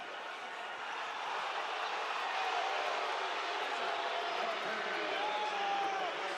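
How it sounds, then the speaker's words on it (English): A college basketball arena crowd at Nevada versus Utah State voices displeasure after a foul call, a broad, continuous murmur and rumble of many voices with faint scattered shouts, heard at a distance. "Crowd's a little upset."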